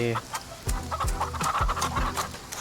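Chickens cluck in the farming game Farm Together: a quick series of short, clipped clucks and squawks, fairly close and clear, with no talk over them.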